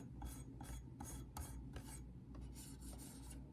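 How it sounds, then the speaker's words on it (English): A fingertip rubbed across the body of a 1/18-scale Sun Star 1981 DeLorean DMC die-cast model, giving soft repeated rasping strokes in an uneven rhythm, very close and quiet, with no talking. "Like even the sound when I run my finger across it."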